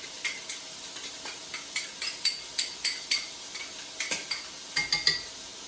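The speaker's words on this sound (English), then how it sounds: "And we'll just give the bacon a little stir here." A utensil stirs bacon in a pan with maple syrup and Dijon mustard, giving off irregular light clinks and scrapes against the metal over a faint sizzle, fairly quiet and close.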